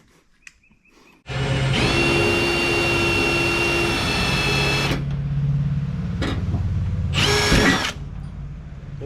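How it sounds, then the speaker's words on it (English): A power drill whines loudly for several seconds while working on a 1970 Chevelle, pauses briefly, then gives a short second burst, close by with no talking. "That drill does have some anchor issues."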